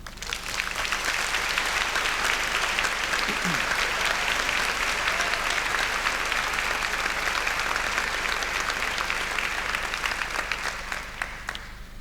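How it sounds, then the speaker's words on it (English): Sustained applause fills a hall at a university degree ceremony in Belfast, a dense, even wash of many hands clapping that lasts about twelve seconds before easing slightly. "And I think that that deserves a round of applause."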